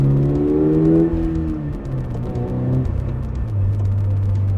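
A 2023 Toyota 86 Anniversary Edition pulls hard from inside the cabin with traction control off on a dry road, its engine note rising in steady harmonic sweeps that drop and climb again through a gear change, loud and continuous.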